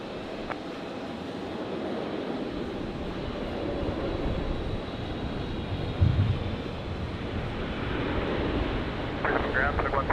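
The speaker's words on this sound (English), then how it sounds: "The Emirates triple just about to touch down" An Emirates Boeing 777 touches down on runway 19 left at Brisbane International Airport at night, a distant, steady jet roar building slightly over ten seconds, with a faint voice in the background.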